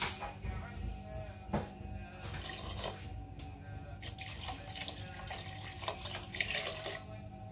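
Water pours steadily into a cooking pot while making a peanut-paste okra sauce (mbambouda), a continuous close splashing rush with a few brief louder splashes.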